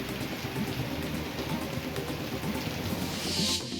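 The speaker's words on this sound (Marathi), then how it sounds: "नागपूरमध्ये सकाळपासून पावसाला सुरुवात." Steady rain falling in Nagpur, a dense, even hiss of drops holding at a constant level for the whole stretch, with a brighter patch of spatter near the end and no voices.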